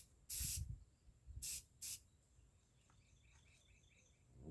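Spray paint hissing from an aerosol can in three short bursts, one longer and two quick, close by, followed by faint chirping birds in a quiet outdoor setting.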